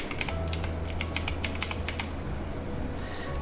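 Quick, light clicks of someone typing a password on a computer keyboard, a run of close, uneven keystrokes over a faint background hum, then a pause.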